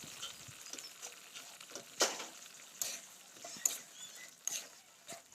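Mutton pieces fry in a spice paste with a steady close sizzle, broken by sharp clatters from stirring at irregular moments; no one speaks.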